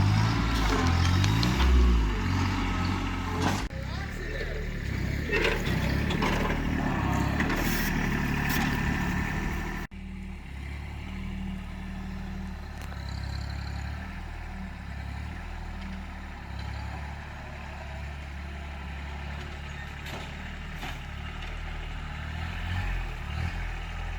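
A tractor's heavy engine rumbles steadily while covering a septic system, its pitch shifting slightly as it works, with a louder stretch at the start before settling into a lower drone.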